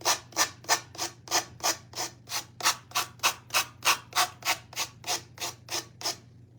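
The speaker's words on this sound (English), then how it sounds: "We're gonna get our sanding tool out and kind of go around these edges" A handheld sanding tool rubs around the edges of wooden Easter decor in a steady rhythm of about eighteen evenly spaced scraping strokes, close and clear, over a faint low hum, then stops.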